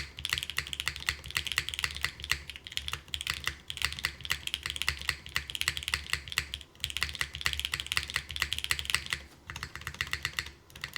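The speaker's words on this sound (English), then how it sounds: "Ooh, the Nixie sounds better than the Obscura for a spacebar here." Steady rapid clacking from a mechanical keyboard fitted with a Nixie spacebar, keystrokes close and continuous with the deeper spacebar thocks mixed in throughout.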